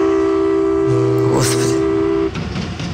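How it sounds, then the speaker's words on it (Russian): Trains pass outside an apartment with a loud, sustained rumble and steady horn-like tones that fade near the end, while a voice speaks briefly over the noise. "А что это? У вас всегда так шумно? Что, поезда?"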